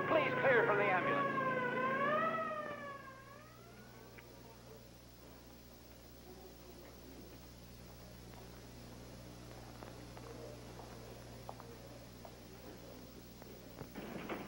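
An ambulance siren wails at a race track, loud and warbling for about two seconds before cutting off, leaving a low hum and faint scattered background noise.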